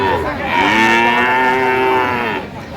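A Friesian or crossbred bull at a cattle market lets out one long, loud, close moo lasting a couple of seconds, with faint background noise around it.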